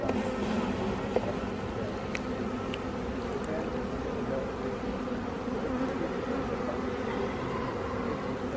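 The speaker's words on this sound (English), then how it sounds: "They're very good natured bees." A dense, steady drone of many honey bees buzzing close at an open hive during an inspection, continuous and even throughout, with no voices.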